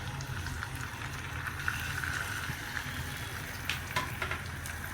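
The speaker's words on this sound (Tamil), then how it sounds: "இதுக்குள்ளே இந்த மீனை போட்டு நான் பொரிச்செடுக்க போகிறேன் 2 பக்கம்" Fish frying in oil in a pan for a Kerala-style fish dish, giving a steady, even sizzle with faint crackles and small pops, no voices over it.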